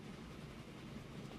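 A locomotive hauling a goods train in the video game Transport Fever gives a steady, faint low rumble with broadband rolling noise, continuous and even throughout, with no voices over it.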